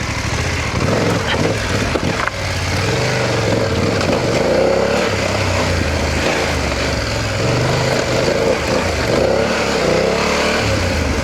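BMW F900GS adventure motorcycle ridden along a rough dirt road through a tree tunnel, its engine droning steadily and loudly throughout with shifting rumble and wind noise.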